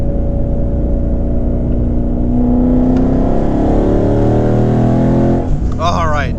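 A 2019 twin-turbo Mustang on regular street tires accelerates at light throttle on a street, its engine note rising steadily and loud close by, with a brief whirring burst near the end and talking over it.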